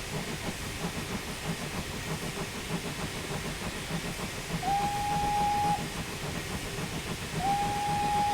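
A Victory Works J21 steam locomotive whistle in Train Simulator 2019 sounds twice, each a steady high blast of about a second, over a continuous hissing, chuffing rumble of a moving train.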